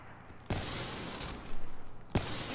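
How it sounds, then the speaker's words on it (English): A video game gun fires a few sharp, loud shots at the start and near the end, with a rapid burst of rattling fire between them, set against faint background noise. "Your gun's loud."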